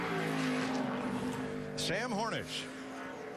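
A Ford NASCAR Sprint Cup car from Richard Petty Motorsports comes off pit road into turn 11 during qualifying at Sonoma in 2015. Its engine drones steadily, then surges and sweeps past with a sharp pitch drop while commentators talk over it.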